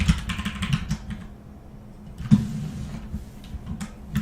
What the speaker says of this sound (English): I'll try to be quieter on the keyboard, sorry about that.